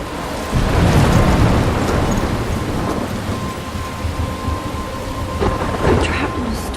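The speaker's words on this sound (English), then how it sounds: "I'm trapped in a storm?" Thunderstorm with heavy rain in the game Life is Strange: steady loud downpour with deep rolling thunder rumbling throughout, a couple of sharper cracks near the end, no talking.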